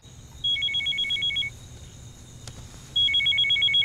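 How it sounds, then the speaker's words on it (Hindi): A telephone rings with an electronic warbling trill in two short bursts separated by a gap, clear over a faint background hum. "सारा का फोन है।"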